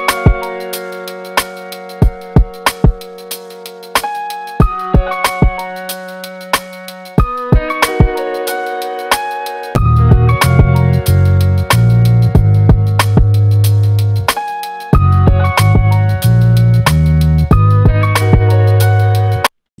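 An Akai MPC sample plays back at doubled tempo, time-stretched and synced to BPM. Loud, plucked melodic tones start staccato and sparse, then shift to a denser pattern over deep sustained bass notes.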